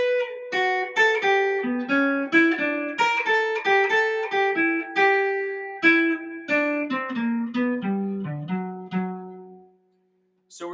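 A western swing electric guitar lick plays clean, single-note runs with bends that step down through the phrase, a steady stream of plucked notes ringing out before a brief pause and a final pick at the end.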